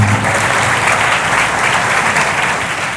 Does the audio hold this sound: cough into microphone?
no